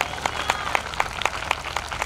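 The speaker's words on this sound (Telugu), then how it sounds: "కొట్టండి చప్పట్లు గట్టిగా" A church congregation at a gospel healing gathering claps together in a steady, even beat, roughly four claps per second, filling the hall.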